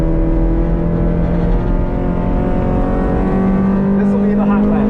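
A 1990 Honda Civic EF LX sedan with a D15B2 multipoint fuel-injected engine drones loud and close from inside the cabin on a track hot lap, holding a steady tone before it climbs in pitch as it revs higher.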